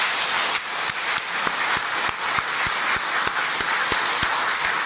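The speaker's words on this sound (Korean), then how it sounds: "잠깐 자리에서 일어나시면 우리가 큰 박수로 환영하도록 하겠습니다." Congregation at a Korean church service applauding a visiting pastor from LA, a steady wash of hand clapping with a few sharp individual claps standing out, loud and sustained throughout.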